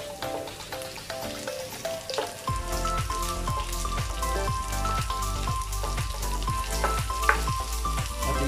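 Onions and garlic fry in a pan with a steady crackling sizzle, while a tonal musical background with rhythmic notes plays prominently over it.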